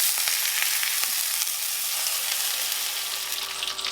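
Onions and garlic fry in a pan with added water, giving a loud, continuous close-up sizzle and hiss throughout that softens slightly toward the end.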